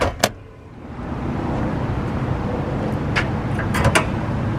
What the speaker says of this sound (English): First, pop the hood.